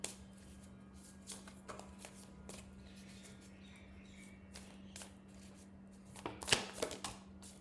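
Tarot cards being shuffled by hand in a quiet room, soft papery riffles and taps recurring in scattered bursts over a steady low hum, with a sharper cluster of card snaps near the end.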